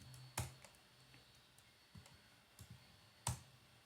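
A command being typed on a computer keyboard, a few sparse, quiet key clicks spaced irregularly, with a sharper tap near the start and another near the end, no voices.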